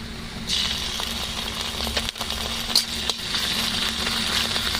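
Chopped onion and ginger paste fry in a pan with steady crackling and sizzling, and occasional clinks of a spoon stirring close by.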